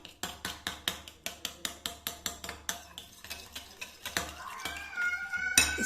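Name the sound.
whisking four tablespoons of yogurt in a bowl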